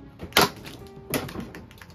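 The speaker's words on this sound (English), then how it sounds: "Now we can gently pull off the plastic side cover." A plastic side cover is pried off a JBL PartyBox 310 speaker during a teardown, giving two sharp close clicks and snaps about a second apart with faint handling noise between.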